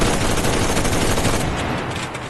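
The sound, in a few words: MG34 machine gun firing in the video game Enlisted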